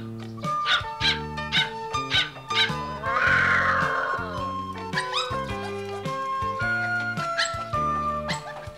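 An Akita puppy yips and whimpers in quick, high-pitched bursts over a steady background melody of sustained musical notes.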